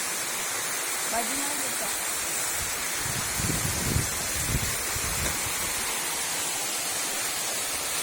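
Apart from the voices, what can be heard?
Bukit Condong waterfall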